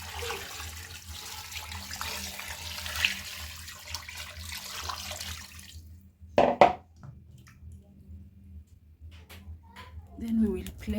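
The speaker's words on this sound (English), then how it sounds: "Add enough water." Water runs from a tap into a big cooking pot (sufuria) for bone broth, a steady splashing flow that cuts off abruptly, followed by a few clanks of the pot and brief talk.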